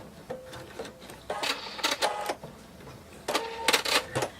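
A sewing machine stitches around the fin of a fabric whale shark plush in short bursts of rapid mechanical whirring, two main runs separated by pauses, close and clear with no talking.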